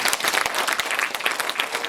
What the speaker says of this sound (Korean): 여러분들 박수 한번 주세요.